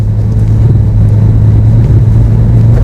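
A Mitsubishi EVO X engine at full throttle, held back by electronic throttle control with stability control working, gives a loud, steady low drone with a strong humming undertone, close up, slightly pulsing, and with no voices.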